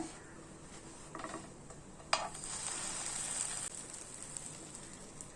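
Cheese-filled bread sandwich toasting in a pan sizzles quietly, with a soft knock as it is flipped before the frying hiss briefly swells and then settles back to a faint sizzle.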